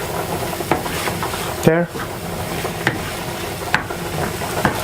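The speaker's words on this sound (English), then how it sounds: "Mix it up a little bit." Quorn spaghetti stirred in a sizzling pan, with steady frying hiss under scraping spoon strokes, one loud clatter near the middle and a few sharp clicks, while a voice speaks briefly.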